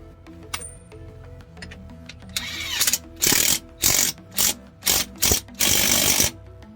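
A ratchet wrench tightens the nut on a Tom Wood's double cardan driveshaft during installation, giving several loud, close clicking bursts in quick succession after a quieter stretch of shop noise.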